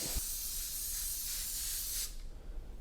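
Gloss enamel spray paint from an aerosol can is sprayed onto a round printmaking plate, a steady close hiss lasting about two seconds before cutting off, followed by quieter room tone.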